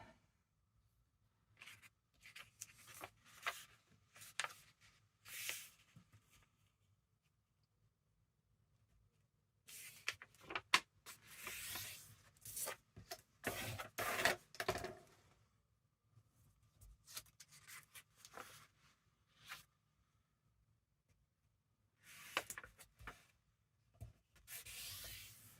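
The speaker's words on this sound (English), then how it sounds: "So now we need to fold this up." Paper folded into a double tri-fold ephemera craft piece makes soft, quiet rustles and creasing rubs in scattered bursts separated by silence.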